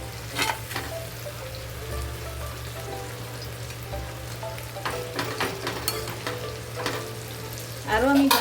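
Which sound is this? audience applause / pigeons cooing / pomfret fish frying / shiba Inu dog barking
pomfret fish frying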